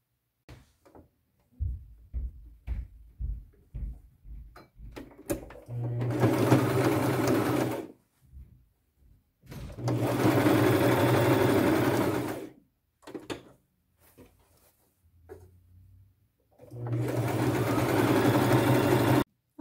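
Domestic sewing machine stitching around the hem of an upcycled patchwork shirt, running in three sustained bursts separated by pauses with fabric handling and light clicks, close and fairly loud.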